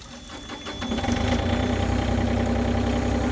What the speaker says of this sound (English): Now that the machine is running, you can see, come down here, you can see the water, we're flushing it out